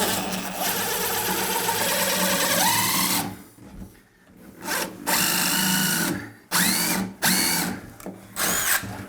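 A power drill drives self-tapping Phillips screws into a glass door fitting, with a sustained whine that cuts off, then several shorter bursts and stops close by.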